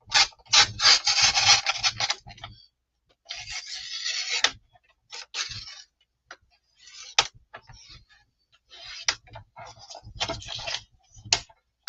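Book board for a Little Golden Book journal is cut by hand in several scraping, rasping strokes, close and irregular, with quiet gaps and light taps between passes.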